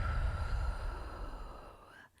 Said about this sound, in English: We'll go ahead and take that first inhale in and exhale it back out.